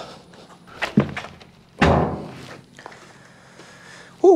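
A heavy wooden lid on a fold-open dog house swings up with a loud wooden thunk and creak, following an earlier knock from the latch, then a softer clatter settles at the end.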